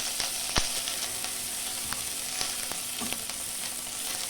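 Onion dropped into hot ghee with a little oil, cardamom and cinnamon tempering, sizzling and frying steadily, with faint crackles and a soft clink or two of a utensil, no voices.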